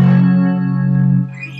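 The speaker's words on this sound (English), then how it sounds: "Right now I have this hooked up to a Digitech RP90 for effects." A Squier Bullet Strat electric guitar rings out through a Digitech RP90 effects unit with reverb: one loud sustained chord with slightly distorted, chorused tone that fades as the notes decay, with no talking.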